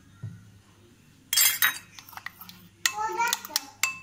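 A spoon stirs cornflour into coconut milk in a bowl for a homemade hair-straightening mix, making close bursts of clinks and scraping against the container after a quiet start, with a voice briefly in the background.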